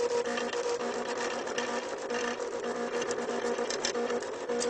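A Cricut die-cutting machine debosses a two-inch paper flower disc, running as a steady, close mechanical hum with a rubbing, grinding texture throughout.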